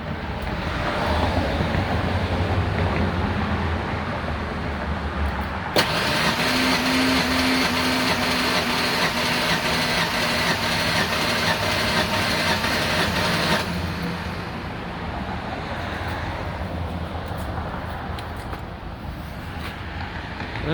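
A 1996 Ford Ranger's 3.0L engine cranks over during a compression test, a steady, rhythmic whirring burst lasting about eight seconds between quieter stretches of background noise, with no talking.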